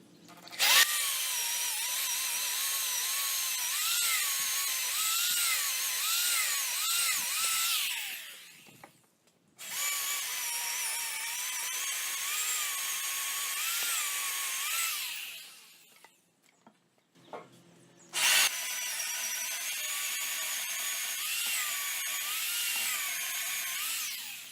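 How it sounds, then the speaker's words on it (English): A power drill bores leg holes into a power-washed cedar log for a bench, whining loudly and steadily in three long bursts with brief pauses between them, close up. "next step after power washing the log is to drill the holes for the legs"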